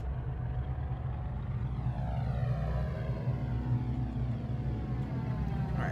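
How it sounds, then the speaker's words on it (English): Cessna 414 twin piston engines in MSFS 2020 rumbling at taxi power, a steady bubbly, throaty drone with a faint sweeping whine above, continuous and fairly close. "I will say the bubbly, throaty note of this engine is really nice."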